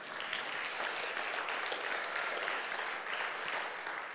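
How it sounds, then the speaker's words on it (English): Congregation applause offered as praise during a church teaching session, a steady dense wash of clapping from many hands, fairly soft and even throughout with no speech. "You can give the Lord a clap offering."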